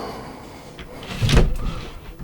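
The entry door of a 2021 Carthago Malibu T 460 LE motorhome slides out with a brief mechanical whir and a soft thud midway, close by against low background noise.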